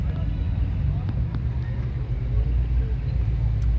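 A mud truck engine with tall valve covers rumbles steadily at idle, a loud low drone with wind buffeting the microphone and a voice talking over it.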